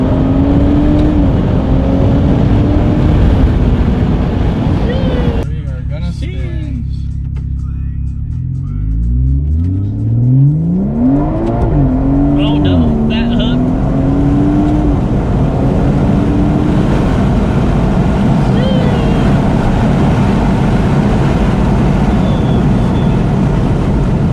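BMW 340i sedan launching hard from a stop with tires spinning, the engine roaring and rising through revs in a loud, sustained rush that settles into a steady drone.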